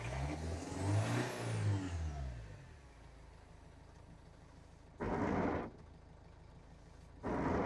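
A cold car engine with its engine warning light on revs up, rising and falling in pitch, then settles to a low idle. Two later bursts of louder broadband noise break in. No one speaks.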